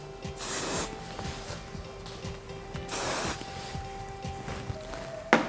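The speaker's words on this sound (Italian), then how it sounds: "applico un po' di spray modellante." Styling hairspray is sprayed onto hair in short hissing bursts, two longer sprays and a quick final puff, close and fairly quiet against a low background.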